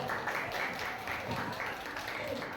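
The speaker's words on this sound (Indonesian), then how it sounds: "boleh tepuk tangan dulu" Applause from a classroom of students fills the whole stretch as a steady, moderately distant patter of many hands, with no break and no voices standing out.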